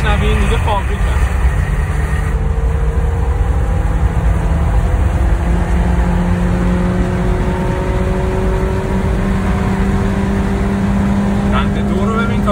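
A Peugeot 207 (206i) car engine revving on a drive around Tehran: a loud, steady engine drone whose pitch climbs gradually as it gains speed, heard from inside the car with people talking over it.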